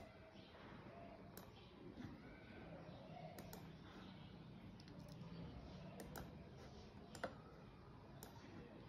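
Keys tap in scattered bursts as text is typed into a PowerPoint slide, faint clicks over a quiet room hum with soft talk in the background.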